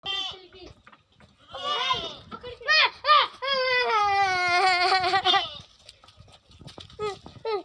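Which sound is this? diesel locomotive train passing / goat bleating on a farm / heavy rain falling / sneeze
goat bleating on a farm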